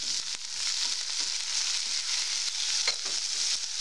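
Shredded cabbage and tomato fry in a pan for masala Maggi noodles, giving a steady, fairly close crackling sizzle with a few louder pops and stirring scrapes throughout.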